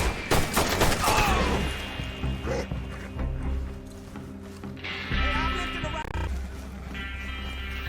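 A burst of rapid gunfire crackles loudly in the Western video game Red Dead Redemption 2, followed by scattered shots and outdoor ambience, with brief voices and a dog-like bark in the mix.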